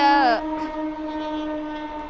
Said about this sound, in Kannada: ಟ್ರೈನ್ ಹೋಗೋದಿತ್ತಡಿ